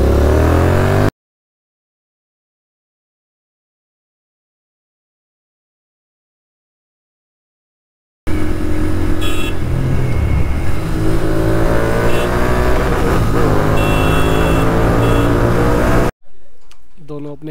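A Royal Enfield GT650 motorcycle fitted with a full system exhaust and bend pipes revs hard and loudly up close for several seconds after a silent gap, its throaty engine note rising and falling before cutting off abruptly.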